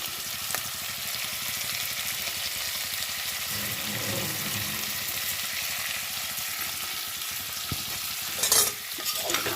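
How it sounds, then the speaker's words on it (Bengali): Vegetables, including drumsticks, fry in a pan with a steady broadband sizzle and soft stirring scrapes for nearly ten seconds, with a brief louder clatter near the end. "এই সবজিগুলো ভাজা ভাজা মতন হয়ে এসছে"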